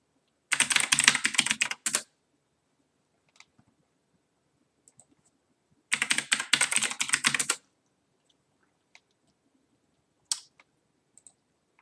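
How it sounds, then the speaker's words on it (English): Fast clattering computer keyboard typing comes in two dense bursts, each lasting about a second and a half, loud and close, with a few scattered single key clicks between them and no speech. "Keyboard is very loud, must not have keyboard sounds."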